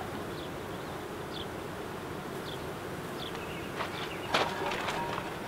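Honey bees buzz around a hive in the open, a steady low drone of many insects with a few individual bees zipping past close by, and a brief rustle near the end.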